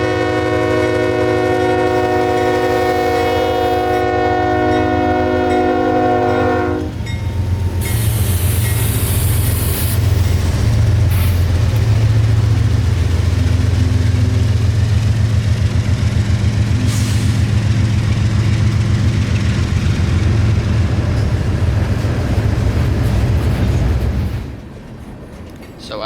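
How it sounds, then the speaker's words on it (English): A 214-car mixed freight train out of Tampa bound for Waycross, Georgia, passing at night in Wildwood, Florida: a loud multi-tone horn blast over deep engine rumble, then a long sustained roar of rolling cars that cuts off near the end. "coming out of Tampa, Florida, bound for Waycross, Georgia with mixed freight traffic, was 214 cars long tonight"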